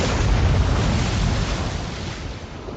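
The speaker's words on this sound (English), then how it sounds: "and then the great explosion." Great explosion sound effect in a science fiction story, a dense roaring blast that starts loud and slowly fades, wide and heavy with no voices.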